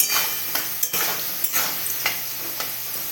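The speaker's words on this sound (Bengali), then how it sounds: "আলুগুলোকে বেশ করে ভাজা ভাজা করবো" Potatoes frying in oil in a pan for chana masala ghugni, a steady broadband sizzle broken by several sharp scraping stirs at roughly half-second intervals, close and fairly loud with no voices.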